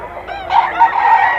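A fighting-cock stag at a Pampanga breeder farm lets out one loud, close, drawn-out crow lasting about a second and a half, with no voices over it.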